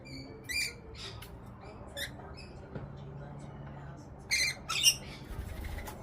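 Lorikeet parrots at feeding time, eating from a hand, give short shrill squawks and chirps in scattered bursts, a few at the start and a louder cluster near the end, over low background rumble.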